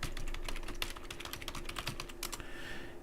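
Fingers type quickly on a computer keyboard nearby, with rapid irregular key clicks over a soft background hum, then a brief pause near the end.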